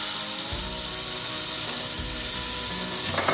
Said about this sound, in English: I want to get this butter hot and just sear these front legs